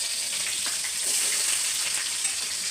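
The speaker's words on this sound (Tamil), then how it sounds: "வெங்காயத்தை போட்டு நல்லா வதக்கணும்." Onions fry in a pan with a continuous hissing sizzle, steady and close, with no talking.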